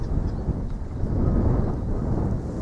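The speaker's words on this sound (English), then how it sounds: "getting kind of windy here." Gusty wind blowing outdoors, a low rumbling buffet that rises and falls across a couple of seconds with no other sounds.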